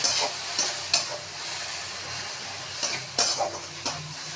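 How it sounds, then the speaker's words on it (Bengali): Yogurt poured into a hot kadai for an egg curry sizzles steadily while a spoon stirs and scrapes against the pan in a few sharp clinks, close up with no voices. "দইটাকে কড়ায় ঢেলে দিয়ে ভালো করে নেড়ে নিলাম"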